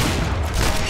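Gunshot in the video game Sniper Elite 4, a single loud, dense blast filling the whole brief moment.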